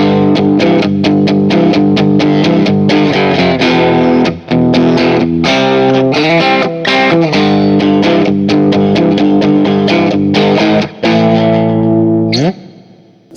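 Glarry Strat-style electric guitar on the bridge pickup, heavily distorted, playing loud sustained chords and riffs with brief gaps, ending in a quick slide and decay.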